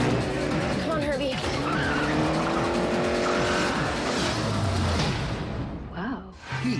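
Herbie, the little race car, tears along with engine roar and sharp screeching tire skids, loud and continuous, with voices and crowd noise mixed underneath.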